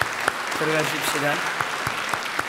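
A congregation at a church presbytery ordination ceremony claps in steady, scattered applause, with a voice speaking briefly over it in the middle.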